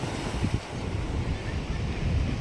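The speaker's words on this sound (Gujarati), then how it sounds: "જો આ ખડાનું બંદર છે." Wind and surf at Khada fishing harbour on the sea coast, a steady low roar of waves and wind buffeting the microphone throughout, with no talk.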